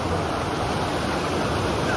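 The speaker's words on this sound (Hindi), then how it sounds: "ये ऊपर से पानी आता हुआ नीचे यहाँ पे आता हुआ" Water falling from above into the Ban Ganga bathing spot on the Vaishno Devi pilgrimage route, a loud, continuous broadband rush heard up close with no pauses and no voices.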